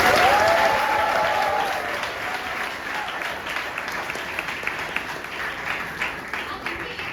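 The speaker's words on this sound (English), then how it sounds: "Please give them a big round of applause." An audience at a toppers' talk for NEET PG 2023 breaks into sustained applause, a broad wash of many hands clapping that starts loud and gradually thins, with a voice briefly heard over it.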